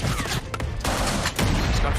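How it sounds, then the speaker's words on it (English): Dense, rapid gunfire crackles in sustained bursts, loud and close, with a brief lull before the shooting resumes. "gunfire's not letting up"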